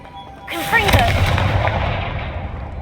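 Confringo fire spell from the game Hogwarts Legacy, a sudden loud blast with a rising whoosh followed by a rumbling, fading explosion tail, heard alone and close.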